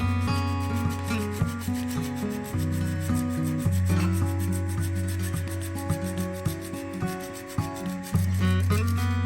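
Parmesan cheese is grated over quail egg stuffed peppers in a close, continuous rubbing and rasping against the grater, with repeated strokes over a steady background hum.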